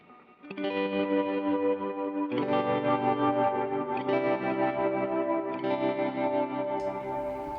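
An electric guitar plays sustained chords with a pulsing post-amp tremolo wobble, thick with stereo chorus and slight distortion, alone and fairly loud.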